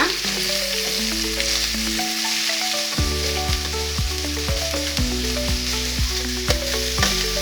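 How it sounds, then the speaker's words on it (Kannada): Finely chopped cabbage, about half a kilo, fries in a pan with a steady close sizzle while a utensil stirs and scrapes through it in repeated strokes; no talking. "ಚೆನ್ನಾಗಿ ಇದನ್ನ ಫ್ರೈ ಮಾಡೋಣ"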